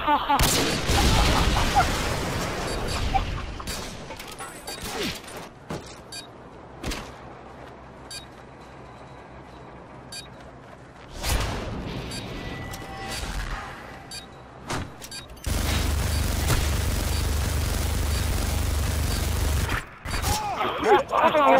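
Bursts of gunfire, a few sharp reports and short volleys spaced across the scene, with excited voices talking and exclaiming between and over the shots.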